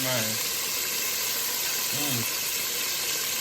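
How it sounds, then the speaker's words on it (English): Steady loud sizzling of chicken deep frying in hot oil, with brief bits of voice breaking through near the start and middle. "Listen to the frying sound."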